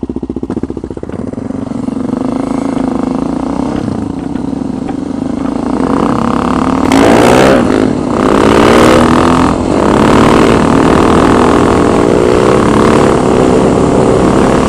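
A motorcycle engine drones loud and close during wheelie practice, holding a steady note and then revving up and surging several times as the throttle is worked.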